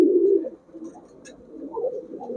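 Low, soft cooing of big-sized pigeons close by, a couple of murmuring coos with a brief faint chirp between them.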